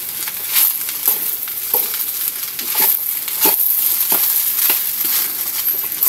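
Egg fried rice is stirred in a hot frying pan, with a steady loud sizzle and the spatula scraping and tapping the pan at irregular intervals throughout.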